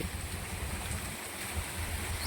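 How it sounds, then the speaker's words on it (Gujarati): Gentle, steady monsoon rain falling in Moti Gop, Gujarat, a soft continuous broadband patter with low rumble, even and unbroken throughout. "વરસાદ ધીમો ધીમો બહુ સારો આજ તો"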